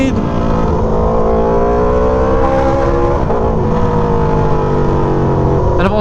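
An Aprilia Tuono V4 motorcycle on the move, its engine droning loudly and steadily with gradually shifting pitch as it holds speed, and wind rush from riding filling the background.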